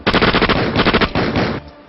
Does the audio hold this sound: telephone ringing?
no